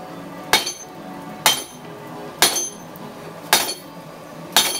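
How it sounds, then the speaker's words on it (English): Hammer striking hot metal while forging an adze: five sharp, ringing metallic blows at a steady interval of about one second, loud and close, with a faint background hum between strikes. "Hit it there. On the side, Michael, on the side."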